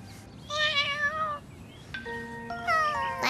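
A cat meows several times in short, plaintive calls with pauses between, fairly close and clear against a quiet background.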